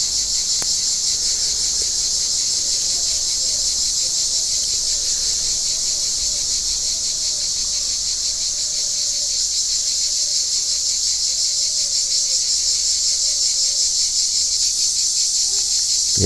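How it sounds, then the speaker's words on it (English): Cicadas buzzing in a tree, a constant high-pitched shrill drone that holds unbroken at steady loudness, with faint bird chirps in the background. "The cicada season is coming to an end."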